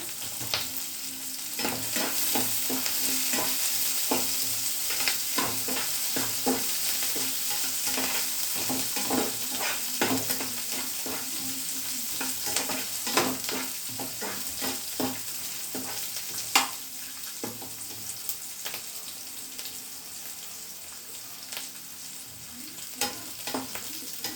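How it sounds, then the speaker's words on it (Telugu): Onion and green chillies fry in a hot pan for a gongura chana dal curry, giving a continuous close sizzle broken by frequent scraping, clattering stirs throughout, with no talking. "అయిన తర్వాత మనం ఉల్లిగడ్డ, పచ్చిమిరపకాయలు వేసేసుకోవాలండి."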